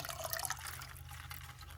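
Water trickles and splashes faintly as a part from a pair of IDF 44 Weber carburetors is rinsed clean, a soft continuous pour with a low hum beneath it and no talking.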